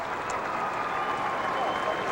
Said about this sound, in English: the fans give Clinton Hicks, the senior from Eastern, a round of applause